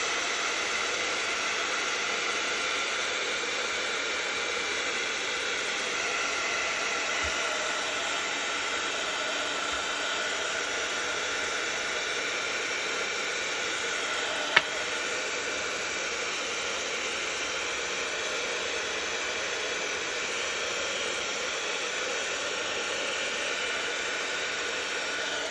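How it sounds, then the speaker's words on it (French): A heat gun blows steadily at close range while drying a handmade card, a continuous loud whooshing roar that holds level throughout with only a faint click partway through. "on va essayer de le passer au pistolet chauffant hein, pour que ça sèche un petit peu plus vite"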